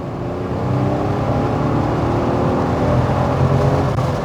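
Skoda Slavia Ambition 1.0 TSI petrol car engine while driving, heard from inside the cabin as a steady low hum with road and wind noise, holding even throughout without talk.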